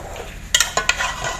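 Stirring mixed spices into a pot for chicken biryani, a spoon clanking against the metal pot in a few quick, close knocks over a low background hum, with no talking.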